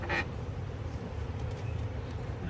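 Honey bees hum in a backyard while a nuc is installed into a hive, a steady close buzzing drone that holds for the full stretch without pause.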